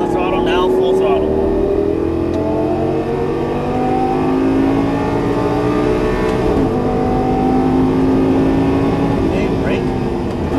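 A Lamborghini Gallardo LP550-2 engine revs up under full throttle on a track, a loud rising drone that carries steadily throughout while a driving instructor talks over it.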